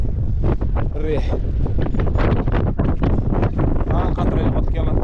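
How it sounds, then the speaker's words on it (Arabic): Steady wind buffets the microphone beside the Garonne river in Toulouse, a loud continuous rumble with people talking over it. "الريح"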